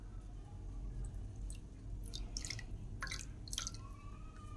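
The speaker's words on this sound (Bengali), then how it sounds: "চান করে আমরা জল দিয়ে চান করে দিলাম" Water trickles and drips as it is poured over a small Gopal deity idol during a daily bathing ritual, with soft splashes and droplets, quiet and close, no talking.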